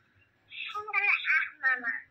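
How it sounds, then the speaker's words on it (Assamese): A phone rings with an incoming call, a bright warbling tone pattern that repeats in short bursts over about two seconds, close and moderately loud with no talking over it. "এই ভাগিনে ফোন কৰি আছে"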